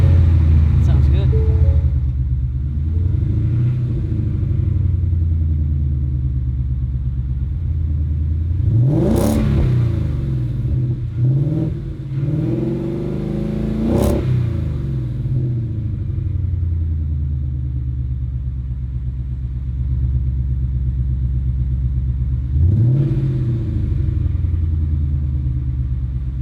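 A 2021 Ford Mustang GT fitted with a Magnaflow Street Series exhaust idles with a deep, steady rumble, broken by a few sharp revs that climb and fall back. A person talks over it.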